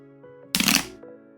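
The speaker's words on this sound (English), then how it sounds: "This seam here is where I'm gonna rip and then eventually open this box up." A cardboard Kith X-Men Asics Gel Lyte III mystery box has its seam ripped open in one short, loud tear lasting about a third of a second, close by, over a quiet background hum.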